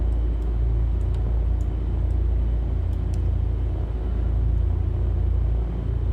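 A steady, loud, low rumble comes from a flight-simulated aircraft rolling along the taxiway after its brakes are released. It is constant, with faint clicks above it.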